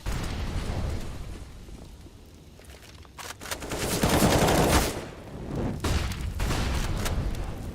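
Gunfire in a Counter-Strike match on the Train map, with rapid bursts of shots and sharp cracks clustered in the middle and repeated volleys toward the end, loud and close in the game mix.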